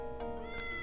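A cat meows once in the Professor Layton and the Curious Village video game, a short tonal cry, fairly quiet over a steady background tone.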